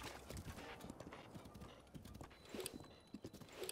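Horse hooves clip-clop steadily in Zelda: Breath of the Wild, a fast, even beat of quiet game sound effects against a busy background.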